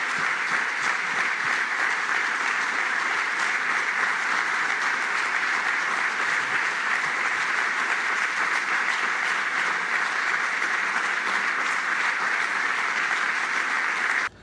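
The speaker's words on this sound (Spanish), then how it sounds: "Los aplausos y muestras de afecto resultan emotivas para el futbolista" Sustained applause at Lionel Messi's Barcelona farewell, a steady, dense wash of clapping from a large crowd that continues unbroken for over fourteen seconds before cutting off.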